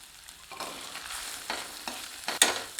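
Fried elephant yam being stirred into masala in a pan over a low flame for a Pongal feast, with a soft steady sizzle and several scraping stir strokes, the last one sharper, close and alone.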